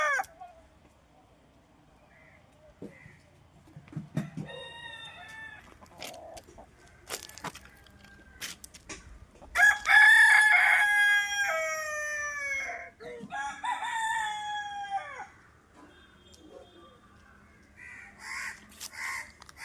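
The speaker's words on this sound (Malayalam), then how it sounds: "ഇതാണ് നമ്മൾ സെവൻ കളർ പൂവൻ" A seven-colour rooster crows loudly near the middle, with scattered clucks and short hen calls before and after in a quiet yard.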